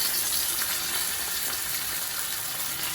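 Salmon fries in a pan, a steady bright sizzle with soft crackle running evenly throughout at close range, no voices.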